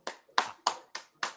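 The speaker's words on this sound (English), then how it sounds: "Jacob's clapping, so it's got to be good news" Jacob claps his hands five times in a quick, even rhythm, each clap sharp, close and alone.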